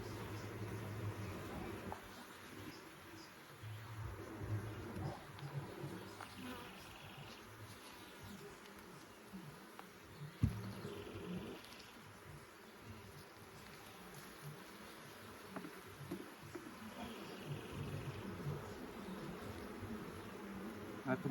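Honey bees buzzing around an open beehive during an inspection, a continuous close drone with scattered handling knocks and faint talk.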